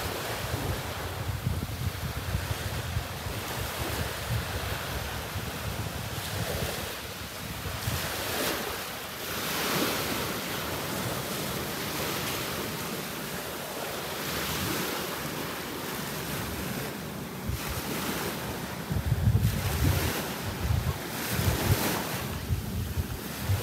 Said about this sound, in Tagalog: Ganyan yung alon.